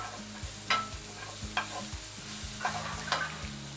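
Ground turmeric frying in a pan with gentle sizzling, broken by several distinct scraping stirs of a spatula, close and fairly quiet with no one talking.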